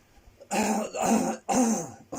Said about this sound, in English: Excuse me, just clear my throat.